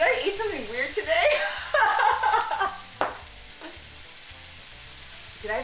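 Food frying on a home stove for a Texas Frito pie, with sizzling under a woman's lively chatter and brief laughter, the talk fading out partway while the frying continues.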